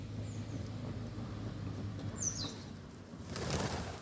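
Backyard pet birds, pigeons or doves, take off in a brief, soft burst of flapping wings near the end, after a faint chirp over quiet outdoor ambience.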